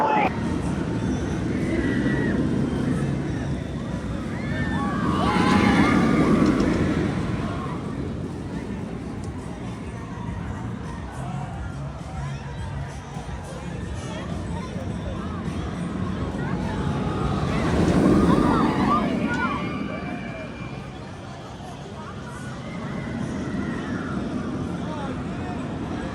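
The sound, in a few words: Flash Vertical Velocity roller coaster ride, front row, Six Flags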